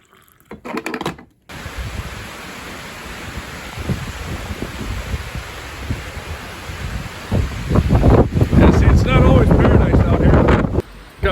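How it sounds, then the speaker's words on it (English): Strong wind blows on Kodiak Island, Alaska, a loud continuous rush buffeting the microphone for several seconds, with voices talking briefly near the start and toward the end. "it's pretty windy today"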